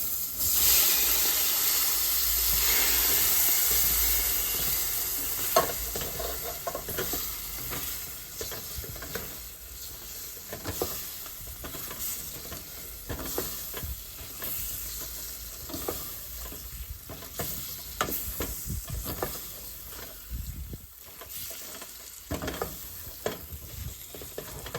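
Peas being stirred and frying in a pan, with a steady sizzle and hiss and repeated scraping and stirring strokes throughout, close and alone.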